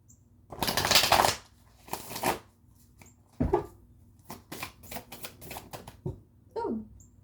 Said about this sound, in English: I'm gonna grab this tarot deck